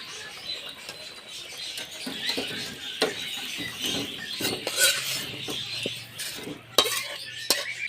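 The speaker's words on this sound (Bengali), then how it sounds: "এখন একটু নাড়াচাড়া করে অল্প একটু জাল করে তারপরেই নামিয়ে ফেলব" Fish curry is stirred in a pot with soft, irregular clinks and scrapes of a utensil over a faint simmering sizzle, fairly quiet and close.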